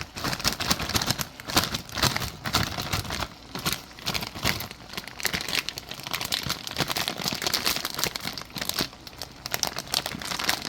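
Crinkling plastic from a bag of frozen chopped onions being shaken and emptied into a cooking pot, with steady rustling and crunching throughout at close range and no talk.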